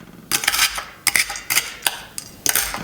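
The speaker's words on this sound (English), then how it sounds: "take another graham wafer crumb, just put it on a plate and smash it with a spoon" A spoon smashes graham wafer crumbs against a plate: a handful of sharp, close clinks and crunchy taps in irregular bursts, with quiet gaps between them and no talking.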